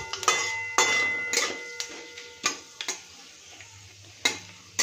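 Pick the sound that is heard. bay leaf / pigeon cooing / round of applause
bay leaf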